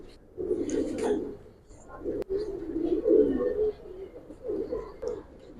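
Giribaz pigeons coo in a few low, rounded bursts at close range, quiet and separated by short pauses.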